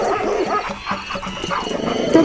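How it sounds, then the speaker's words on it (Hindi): A dog barks repeatedly in an animated Hindi story, a run of loud, close, rhythmic woofs over a busy, noisy background with no clear speech. "तब तक सेठ का कुत्ता बिरजू का पिछवाड़ा नोच लेता है।"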